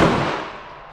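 A single gunshot at an outdoor shooting range, a sharp loud blast at the start that fades out over about a second with a decaying echo.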